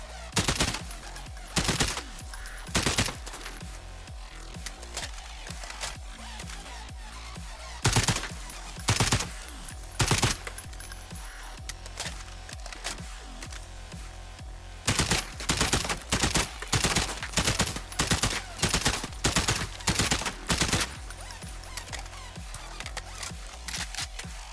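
Repeated short bursts of FAL rifle fire in Call of Duty Warzone, loud and sharp, with clusters of rapid shots separated by brief pauses and a dense run of bursts near the end.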